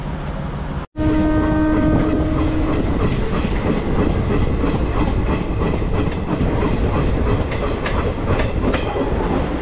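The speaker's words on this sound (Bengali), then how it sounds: "তোমাদেরকে একটু লামডিং স্টেশনটা দেখাই" Train at Lumding railway station in Assam, loud close rumble and clatter of rolling carriages with a brief horn tone near the start, sustained and steady throughout.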